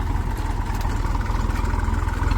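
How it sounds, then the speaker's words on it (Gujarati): A tractor engine runs in a cotton field with a steady, close, low rumble and an even idle throb that holds for the whole stretch, with no voices. "હાલો આ થઈ ગયું ટ્રેક્ટર ચાલુ મિત્રો"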